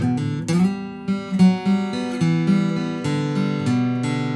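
Guitar plays the first half of an intro riff, a quick run of plucked notes and bent double-stops over low open strings, loud and close with no voices.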